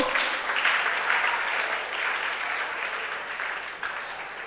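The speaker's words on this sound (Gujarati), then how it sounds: "તાળીઓ ચાલુ રાખીશું" A crowd at a school award ceremony claps steadily, a dense, continuous wash of applause that holds at an even level for several seconds and tapers slightly toward the end.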